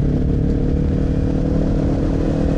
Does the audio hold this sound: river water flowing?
no